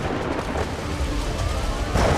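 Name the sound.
tropical thunderstorm with thunder and rain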